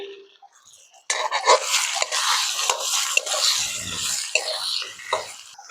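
Potatoes and cauliflower being stirred in a pot for Gujarati Kathiyawadi khichdi: a spoon scrapes and clinks against the pot in close, steady strokes after a brief quiet start.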